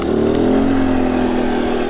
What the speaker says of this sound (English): you probably heard it rev up just a little bit, and that's because the converter charger is on